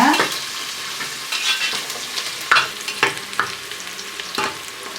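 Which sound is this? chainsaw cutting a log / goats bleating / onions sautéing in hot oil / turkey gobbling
onions sautéing in hot oil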